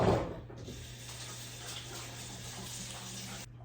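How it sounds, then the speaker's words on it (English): A kitchen faucet pours a steady stream of water close by for hand washing, starting with a brief splash and cutting off just before the end. "wash my hands again"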